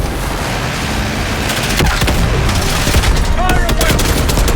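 Gunfire in the video game Call of Duty Black Ops 6: loud, dense bursts of shots and cracks over a roaring, noisy background, with rapid overlapping reports that build toward the end.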